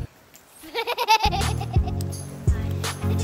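A goat bleats in a few quick wavering cries close by, followed by a steadier low droning tone with scattered voices in the background.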